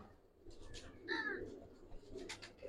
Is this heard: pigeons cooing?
yes